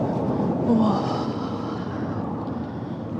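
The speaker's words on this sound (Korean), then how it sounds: "이곳의 단점은 공항과 너무 가까워서 비행기 소리가 항상 많다는 거" Low, broad rumble of airplane noise near Jeju airport, a jet passing overhead with a swelling roar that slowly fades, as a person briefly exclaims over it.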